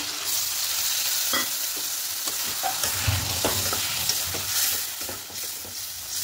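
Potatoes sizzle in a pan as a spoon stirs them, sending out occasional scraping knocks over a constant close frying hiss that eases slightly near the end, with nobody speaking.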